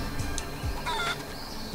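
Short chicken clucks from the video game Guacamelee come in a quick scattered series, fairly quiet and close, with no talking.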